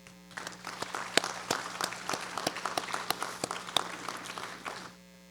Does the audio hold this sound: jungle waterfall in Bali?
no